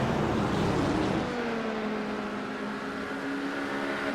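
A GT3 race car's engine at Long Beach, picked up by an in-car microphone, holds a loud steady drone whose pitch slides gradually downward as revs ease, with no talk over it.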